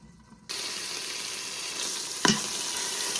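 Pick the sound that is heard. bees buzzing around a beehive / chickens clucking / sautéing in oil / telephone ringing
sautéing in oil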